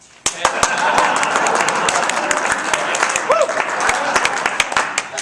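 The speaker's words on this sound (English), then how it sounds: "magicians do this to generate applause" An audience applauds after a card trick at a leadership academy event, with a wash of clapping punctuated by sharp, distinct near claps and a brief voice rising over it midway.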